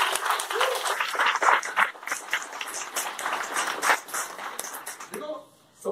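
An audience at a motivational business seminar applauds: brisk, dense clapping close to the microphone that dies away abruptly near the end.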